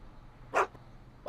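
A single short bark from the dog Einstein in the Back to the Future video game, a brief burst standing alone against a quiet room-tone background, with another bark starting at the very end.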